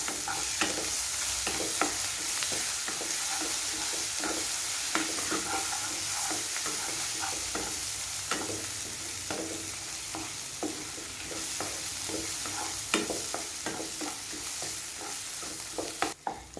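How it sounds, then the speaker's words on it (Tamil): Pirandai (adamant creeper) paste sautés in oil with a continuous close sizzle, broken by frequent spatula scrapes and stirs against the pan over about seventeen seconds. "எண்ணெயிலே நல்லா இந்த பேஸ்ட் கொஞ்சம் வதங்கி வரணும்."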